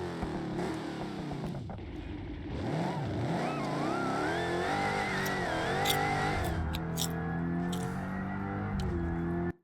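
A high-revving Dodge Hellcat 6.2-liter supercharged V8 in BeamNG.drive roars steadily, pitch sweeping up and down through the gears, with a synthetic, game-like tone and no talking.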